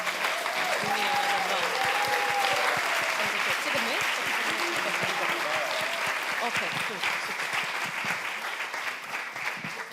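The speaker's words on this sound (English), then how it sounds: "So please, let's make an applause again for all the fellows." A conference audience applauds the fellows at an architecture event, a dense, steady wash of many hands clapping throughout, with faint voices mixed underneath.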